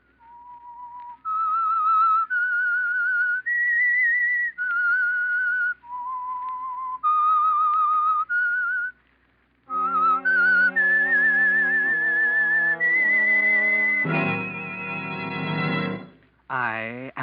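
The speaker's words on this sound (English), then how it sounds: "That whistle is your signal for the Signal Oil program" Whistled theme tune of the radio show The Whistler, a clear solo melody of sustained notes stepping up and down, followed by a loud orchestral swell of held chords.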